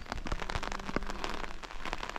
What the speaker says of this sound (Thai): อันนี้ก็คือบรรยากาศโดยรอบนะคะฝนกำลังตกเลย